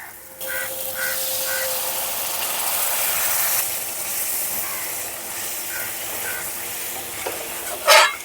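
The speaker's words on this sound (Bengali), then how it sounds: "এখন হলুদ, শুকনো লঙ্কার গুঁড়ো আর লবণ ভালো করে মশলার সঙ্গে কষিয়ে নেব" Turmeric, dried chilli powder and salt being stir-fried with spices in a pan for a vegetarian doi aloo, steady close sizzling with a spatula scraping and a sharper clatter near the end.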